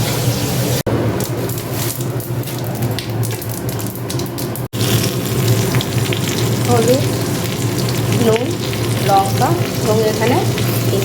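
Three green chillies sautéing in a pan, a loud steady sizzle close by with stirring scrapes and a couple of abrupt clicks, faint voices and chirps in the background.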